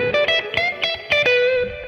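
Electric guitar played through a Vibro King amp with two tweed cabinets, an analog delay and spring reverb, plays a minor blues phrase of bright picked notes. Each attack is crisp, with echoing repeats and a warm, sustained, slightly driven tone.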